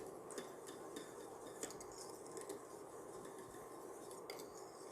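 Lavender ice cream custard whisked in a pot, with a metal whisk clinking and scraping against the sides in a steady, fairly quiet rhythm over a soft background hiss.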